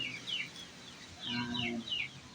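Chickens cluck and chatter softly at a short distance from their coop, several bursts of calls overlapping in a quiet setting.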